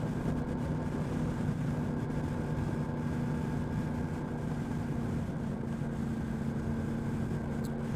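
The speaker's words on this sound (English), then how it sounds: "just wondering how the sound sounds with this microphone now, with the engine noise mic on as well" Steady engine drone from a Yamaha MT-10 motorcycle while riding on a wet road, a constant low hum with broadband wind and road noise held at an even level for the whole stretch, with no talking.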